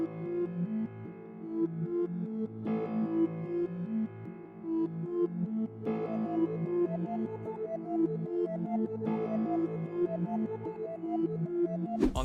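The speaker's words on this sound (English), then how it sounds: "The next thing I added was a really simple, just FL keys, and I just added it as like a bass note to the sample." Dark, sustained melodic sample layered with simple FL Keys bass notes following the root, a looping tonal music phrase with clear harmonic notes that changes chord every few seconds, steady and full without any voices.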